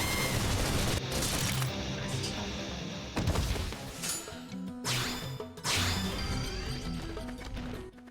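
Gunfire and combat-art strikes in the Xenoblade Chronicles X game, dense crashing impacts, rapid shots and whooshing blasts layered over battle music, with brief voice lines in places.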